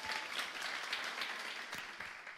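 A church congregation applauds after a testimony, a dense moderate wave of clapping that holds steady and then starts to thin toward the end.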